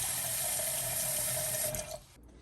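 Cold tap water runs steadily into a stainless steel pot, a loud close rushing stream for about two seconds before the flow is shut off.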